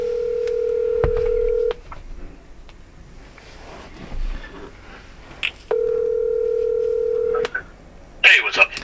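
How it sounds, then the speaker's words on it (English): A telephone call being placed: two long, steady electronic tones, each lasting a couple of seconds, are separated by a gap with faint background talk and handling noise, and a brief clatter comes at the end. "let me give Keith a call here and see how we proceed with this thing"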